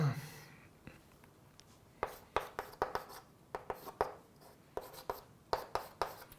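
Chalk taps and scratches out equations on a board in a quiet lecture room, coming in short bursts of strokes with brief pauses between them.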